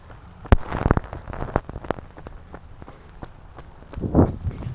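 Early-morning outdoor run in cold rain during marathon training, with a steady patter of rain and scattered sharp footfall-like impacts close by, and a louder rustling burst near the end; no speech.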